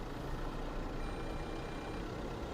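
A new Force Traveller N van being driven, its broad low engine rumble and road noise holding steady and fairly loud throughout, no voices over it.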